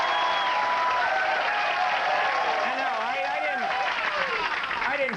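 Studio audience applause at a 1997 cable talk show, a dense steady roar of clapping filling the whole stretch while a voice talks over it.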